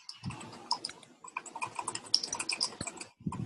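Rapid typing on a computer keyboard, heard as background noise from a participant's unmuted microphone in an online call, a dense run of close, crisp key clicks with brief gaps.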